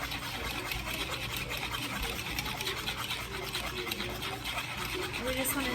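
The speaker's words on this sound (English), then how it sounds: "I'm going to whisk, whisk, whisk, whisk, whisk that in while I'm streaming it in" Whisk stirring hot milk into eggs to temper them: a continuous, faint, even scraping swish with no breaks throughout.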